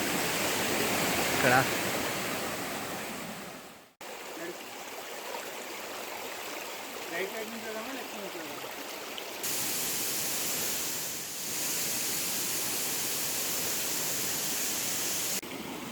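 Flowing stream water near Mahal Waterfalls in Gujarat, a continuous hiss-like rush heard from close by, briefly cut off once, then stronger in the second half, with someone speaking briefly over it.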